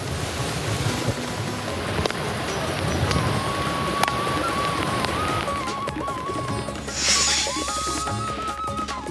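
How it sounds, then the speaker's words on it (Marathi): Heavy unseasonal rain in Maharashtra, falling during a thunderstorm with lightning, makes a dense, steady roar that fills the whole clip, with a faint tonal whine drifting through it. "अनेक भागामध्ये विजांच्या कडकडाटासह मुसळधार पाऊस बरसला"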